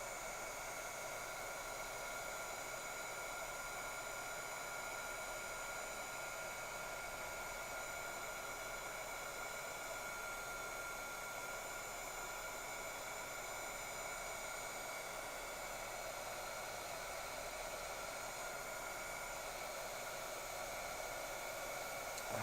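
A heat tool blows hot air over embossing powder on a gilded gourd set on an embossing mat, making a constant, even whoosh that runs without pause from start to finish.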